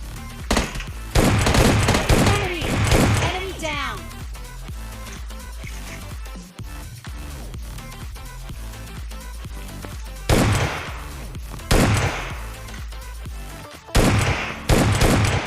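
Shotgun fire in PUBG Mobile Lite, an SK-12 shotgun, comes in loud, rapid bursts in the first few seconds and again in sharp volleys near the end, with quieter game ambience between them.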